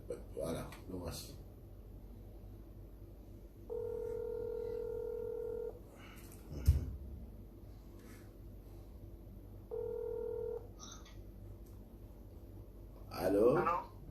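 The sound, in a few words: telephone keypad dialing tones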